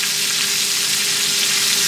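Chicken fajitas sizzle in a hot pan with a steady, bright crackling hiss, close and continuous, no voices.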